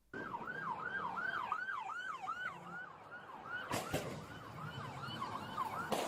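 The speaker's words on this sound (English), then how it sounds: "you can hear this cop car come in and hit this guy" A police car in a video game races in with a wailing, swooping siren that repeats steadily, then a sharp impact burst lands midway as it hits a man, with the siren continuing afterward.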